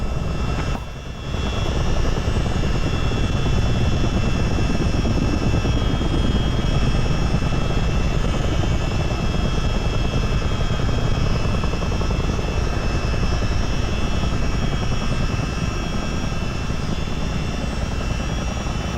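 A US Army Chinook helicopter in Microsoft Flight Simulator gives a loud, steady rotor and engine roar. After a brief dip near the start, it drones on continuously with no talking.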